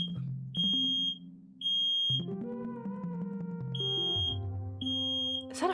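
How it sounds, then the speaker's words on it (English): Repeated high electronic smoke-alarm beeps sound in regular bursts of paired chirps over loud background music, clear and prominent throughout. "Is that a fire alarm?"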